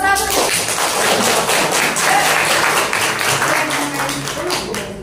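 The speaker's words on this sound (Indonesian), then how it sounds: "Tepuk tangan untuk kelompok" Classroom students give a presenting group a round of brisk, dense clapping, many hands close together, tapering toward the end with a bit of chatter underneath.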